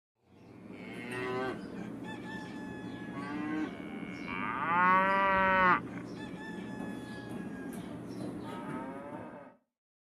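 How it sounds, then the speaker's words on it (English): A cow moos repeatedly at close range, its long drawn-out calls rising and falling for most of the stretch, with a rooster-like crow in the mix and steady farmyard background noise beneath. "Cow."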